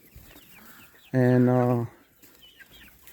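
A white leghorn rooster lets out one loud, strained call of under a second, a young bird attempting to crow, set against quiet background noise in a chicken hoop house.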